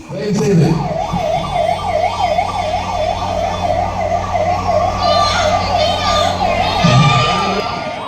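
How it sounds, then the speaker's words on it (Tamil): An ambulance siren wails steadily in a repeating rising and falling pattern as it moves through a dense crowd at a political gathering, loud and close over the noise of people shouting and calling out. "ஆம்புலன்ஸ் வழிவிடுங்க"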